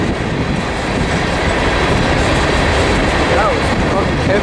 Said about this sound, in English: Well, there's a steel train that runs out of over there.